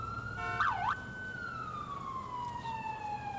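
An ambulance siren wails in the police video game LCPDFR, one quick up-and-down whoop followed by a long, steady tone that slowly falls in pitch, heard at moderate volume alone, without talking.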